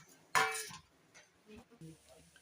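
A metal lid clanks down onto a cooking pan of ash gourd poriyal with dal. One bright clink rings briefly, followed by quieter shuffling, soft kitchen clatter and faint low voices.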